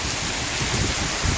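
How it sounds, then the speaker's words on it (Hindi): Rain beginning to fall in Khao Sok National Park, Thailand, a loud, even wash of hiss with a soft low rumble underneath, continuous throughout and free of speech. "तो अभी यहाँ पे बारिश स्टार्ट हो गई है भाई,"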